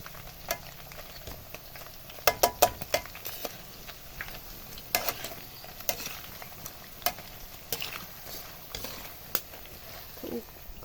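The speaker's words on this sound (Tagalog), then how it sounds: "Ito tumatalsik eh. Kakalat ang mantika doon sa loob." Banana chips fry in hot oil over a wood-fired stove, with a steady sizzle broken by loud, sharp spattering pops that cluster in quick bursts and recur throughout.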